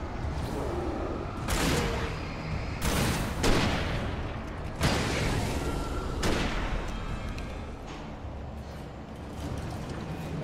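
Gunshots in the video game Alan Wake, several loud blasts standing out over a dense, continuous roar of game noise, spaced a second or two apart.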